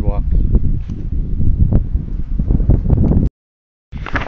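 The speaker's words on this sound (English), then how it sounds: "It's kind of windy out here, so try to bear with me." Gusty outdoor wind beside a sidewalk lined with landscape lights, buffeting the microphone with a loud, steady rumble and rustle that cuts out briefly near the end.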